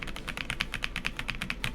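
Rapid computer keyboard typing, steady clicking keystrokes close to the microphone, continuous for the whole clip with no talking.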